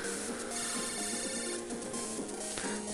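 A phone rings in the Mega Man Battle Network 5 video game, a bright repeating electronic ring tone pulsing steadily over dense game music and effects throughout.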